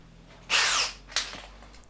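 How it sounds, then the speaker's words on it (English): Electric drill boring a hole beneath lead stock, two close bursts: a longer whir lasting about half a second, then a shorter one, loud against a quiet background. "I did actually have to take a drill and drill a hole right underneath that stock"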